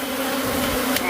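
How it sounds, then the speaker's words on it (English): A huge swarm of bees buzzes close by, a loud continuous droning hum with shifting pitch and no pauses. "I got 1 million bees"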